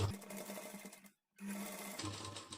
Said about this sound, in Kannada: ನಾನಿಲ್ಲಿ ಒಂದು ಕಾಲು ಇಂಚ್ ಗ್ಯಾಪ್ ಬಿಟ್ಟು ಸ್ಟಿಚ್ ಮಾಡ್ತೀನಿ